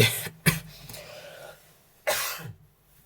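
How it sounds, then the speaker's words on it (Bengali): A couple of sharp coughs, one early and another after a pause, close and fairly loud with quiet stretches between. "কাশ বা হয়েছে এই যে কাশিটা"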